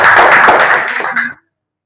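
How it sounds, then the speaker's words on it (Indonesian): Classroom of students applauding a classmate in a mathematics lesson, a short burst of dense clapping at close range that cuts off abruptly after about a second and a half. "Tepuk tangan dulu buat Ramdhani."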